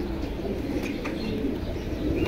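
A pair of caged pigeons, a male and a female, coo softly and repeatedly, with low murmuring calls close by against a faint steady background.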